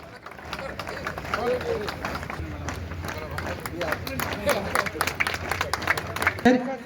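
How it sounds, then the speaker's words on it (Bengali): A crowd claps for tug of war teams at the Bankura district police 50th annual sports meet, rapid scattered hand claps mixed with crowd chatter and voices throughout. "টাগ অফ ওয়ার করতালি দিয়ে উৎসাহিত করবেন"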